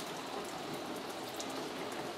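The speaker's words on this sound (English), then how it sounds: "But water's coming in behind this waterproof membrane." Steady water running in behind a wall's waterproof membrane, leaking in from an unflashed exterior electrical fixture while being hosed; a continuous close hiss and patter, loud and unbroken, with no voices.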